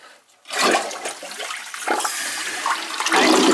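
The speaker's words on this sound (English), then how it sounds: "But it should flush now." A toilet that has just been snaked flushes close up, a loud rushing gurgle that starts abruptly after a brief quiet moment and continues as the tank refills with steady running water.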